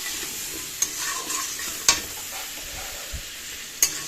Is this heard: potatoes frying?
yes